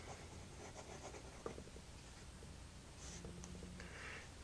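Lamy 2000 fountain pen with a very wet ink flow writing on paper, a soft, steady scratch of nib strokes running close and quiet throughout, with a small tap partway through.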